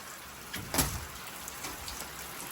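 Steady heavy rain hisses across the whole clip, with a brief louder burst of splashing or rumble near the start, in an afternoon downpour after days without rain.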